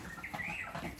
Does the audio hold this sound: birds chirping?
yes